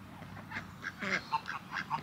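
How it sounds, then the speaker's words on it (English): Geese honk in short bursts outdoors, several separate calls spread across a couple of seconds over a steady background murmur, moderately near. "That one's a goose."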